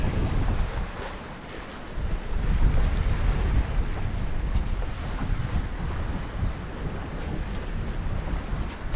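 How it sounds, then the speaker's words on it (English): Close, loud ocean waves and gusting wind blow across the microphone aboard a sailboat under sail in Antarctica with the engine off, a continuous rushing roar with no voices. "the sound of the wave and the water instead of the engine"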